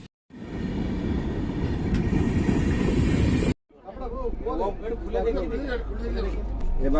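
A train at Sullurpeta railway station gives a loud, steady rumbling roar that cuts off abruptly, followed by people talking over a low continuous hum.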